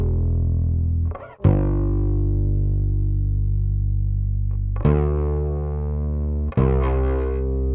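Two bass tracks layered in a mix, one clean and one heavily distorted, sustaining long loud notes together with a few sharp changes of pitch and brief dips between notes.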